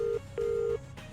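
A phone is dialed to place a call, producing two clear steady tones, a short one and then a longer one after a brief gap, heard alone and fairly loud.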